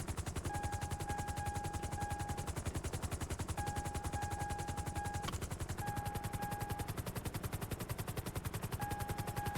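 A helicopter in a video game keeps up a fast, steady rotor chop that sounds like rapid machine-gun fire, while a repeating electronic alert tone beeps over it at moderate volume.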